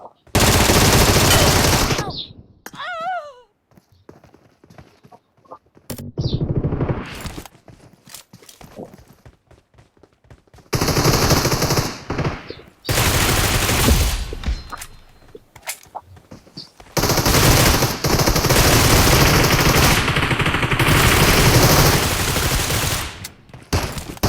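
Bursts of rapid gunfire in a shooting video game, long loud stretches of automatic fire broken by quieter gaps and other game sounds, with a voice speaking now and then.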